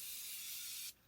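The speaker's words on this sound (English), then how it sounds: "I'm going to spray one more time." A single sustained hiss from a spray bottle misting during a makeup routine, close and fairly quiet, lasting almost a second before cutting off abruptly.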